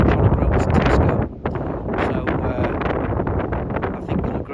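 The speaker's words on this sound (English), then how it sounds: "A bit windy" Strong, steady wind buffets the microphone at Duncansby Stacks on Scotland's north coast, a loud continuous roar with gusty swells and a brief lull partway through.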